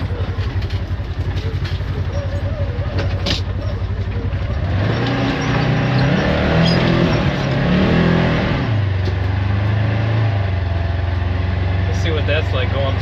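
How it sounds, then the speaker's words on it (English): A 2024–2025 Polaris RZR side-by-side crawls through a ravine in 4-wheel drive, its engine droning loudly and steadily up close, swelling as it revs midway, with no talk over it. "I'm gonna have to put it in 4-wheel drive to get through."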